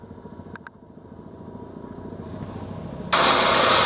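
A silver Rhino quad drives along flooded, muddy forest roads in Nisbet Forest, its engine droning steadily and building before a sudden loud rush of splashing water at the end.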